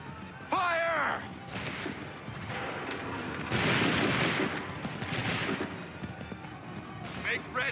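Massed musket volley fire in Assassin's Creed III's Lexington and Concord battle: a few loud ragged blasts spread over several seconds, overlapping with battlefield noise and shouted orders.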